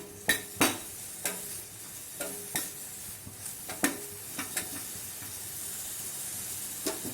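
Onion and ginger-garlic paste fry in oil on a tawa while a spatula stirs, giving sharp scraping clacks at uneven intervals over a soft, continuous sizzle, close by with no one speaking.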